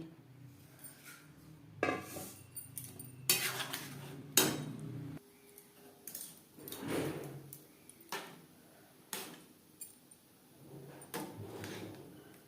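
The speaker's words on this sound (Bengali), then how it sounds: "মশলার সাথে বেশ ভালো করে মিক্সড করে দেব" Spoon scraping and clinking against a pot while rice and lentils are mixed into spices for vegetarian khichuri, irregular knocks and scrapes, fairly quiet and close, no talk.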